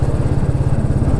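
Royal Enfield Bullet 350 single-cylinder engine pulling steadily in top gear at low revs, a loud, even, close thumping beat without revving.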